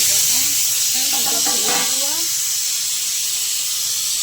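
Steam hisses steadily and loudly from a pressure cooker steaming dhokla on a gas stove, and someone speaks briefly over it near the start.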